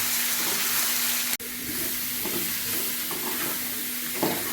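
Tangy, spicy corn frying on low heat while being stirred in the pan: a steady, close sizzle with scraping stir strokes throughout and one brief dropout.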